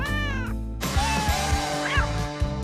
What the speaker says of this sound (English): This many cats means a lot of kitty litter, but Peter came up with an ingenious solutio